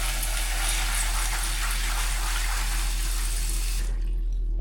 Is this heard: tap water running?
yes